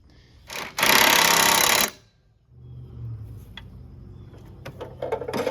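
Blade from a Yard Machines (MTD) high-wheel push mower with a 4HP engine being sharpened: one loud, harsh grinding burst of about a second, then quieter scraping and clatter from the blade.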